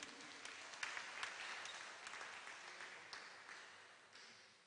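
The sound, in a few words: audience applause at a party conference rally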